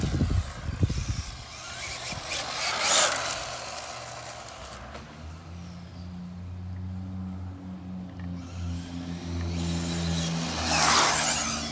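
A Traxxas 4Tec 2.0 Ford GT RC car on a 3S LiPo battery whines and revs as it accelerates past, its electric motor pitch rising and falling, moderately loud outdoors with no talking.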